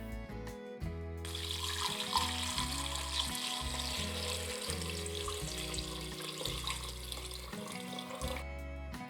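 Water for elderflower cordial pours steadily into a pot already holding flowers, lemons and citric acid, a continuous close splashing rush that starts after a short pause and stops just before the end, with no talk.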